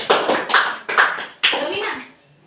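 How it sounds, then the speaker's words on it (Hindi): Children in a classroom clap together in several quick bursts of rhythmic handclaps, close and fairly loud, tapering off at the end with a faint voice. "अंशु के लिए ताली बजाओ।"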